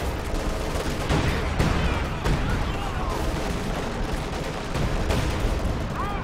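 A zeroing artillery strike in the real-time strategy game Company of Heroes 2, heard as a steady, loud rumble of repeated muffled blasts and thuds layered into continuous battle noise, with faint voices mixed in.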